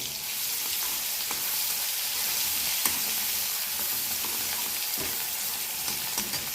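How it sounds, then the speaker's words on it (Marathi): Chili and garlic paste hits hot oil already crackling with mustard seeds and cumin, making a dense, continuous sizzle with a few sharp pops breaking through, close and loud, with no talking. "मोहरी जिरं तळलं आहे हे बघ त्यामध्ये मिरची आणि लसूण पेस्ट मिरची टाकून घेऊ"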